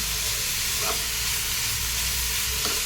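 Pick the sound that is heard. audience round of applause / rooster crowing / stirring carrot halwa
stirring carrot halwa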